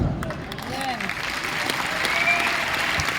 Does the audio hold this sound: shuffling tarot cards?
no